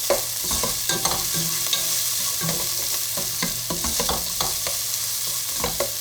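Onions sizzle steadily in a frying pan for a simple vegetable curry, with garlic granules mixed in, while a spoon scrapes and stirs in irregular knocks and scrapes throughout, fairly close and with no talking.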